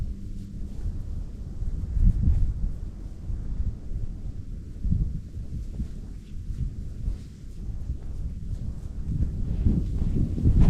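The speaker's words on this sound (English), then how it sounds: "Sorry about the wind" Wind buffeting a microphone outdoors in a wooded, grassy area, a steady low rumble with gusty swells throughout and no talking.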